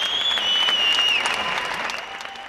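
Crowd of people clapping and cheering from apartment balconies and windows in Spain, a dense, sustained wash of applause with a few whistles rising above it, fairly loud and steady, fading slightly toward the end.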